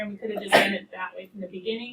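A single quick sneeze bursts out in a classroom during a precalculus lesson, brief and fairly close, with students talking around it.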